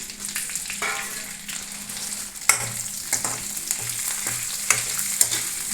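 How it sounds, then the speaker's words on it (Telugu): Dried red chilies, cumin seeds and ajwain fry in a pan with a steady close sizzle, punctuated by scattered spatula scrapes and small clinks throughout. "ఎండుమిరపకాయలు, జీలకర్ర, వాము ఇవన్నీ వేసి దోరగా వేయించుకోవాలి"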